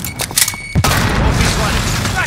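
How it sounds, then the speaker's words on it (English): Frag grenade detonating in Call of Duty multiplayer, a sudden deep boom after a short burst of distant gunfire, followed by a rumbling tail with voices talking over it. "Grenade out!"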